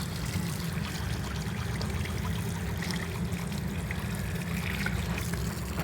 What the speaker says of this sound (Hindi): तो अब हम यहाँ पर आम वगैरह धो रहे हैं